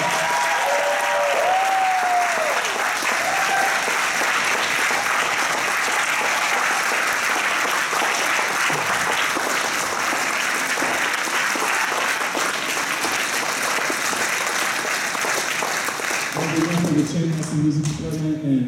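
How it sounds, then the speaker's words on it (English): Sustained applause from a large audience at a school jazz concert fills the room, a dense steady clapping that carries on without a break before tapering near the end. "let's give these seniors a round of applause."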